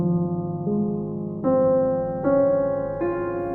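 Minecraft music disc from the video game heard as if repaired: a sustained, soft synthetic tone with steady harmonics that shifts pitch in stepped notes about every three-quarters of a second, clear and alone with no voices.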